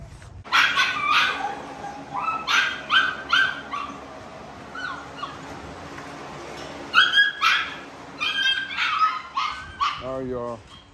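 Several dogs in a garage bark, yip and whimper in irregular bursts close by, while a person talks over the noise.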